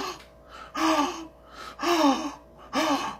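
Three sharp, breathy gasps for air come in a steady rhythm, each a loud, close intake of breath with a brief vocal edge, separated by short pauses.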